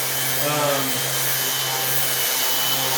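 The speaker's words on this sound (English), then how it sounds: "when you're using the palm sander here" A palm sander runs continuously on a large wood cross section prepared for dendrochronology, giving a steady, close whirring drone with a brief change in pitch early on as the pad shifts on the surface.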